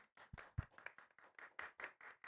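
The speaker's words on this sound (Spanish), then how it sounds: "Le damos un fuerte aplauso" A studio audience on a Spanish-language radio program claps for a departing guest, a brief burst of scattered, uneven hand claps with a few louder close claps, fairly faint overall.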